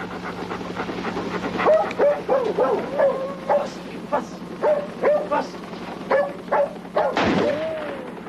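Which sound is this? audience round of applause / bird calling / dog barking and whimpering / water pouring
dog barking and whimpering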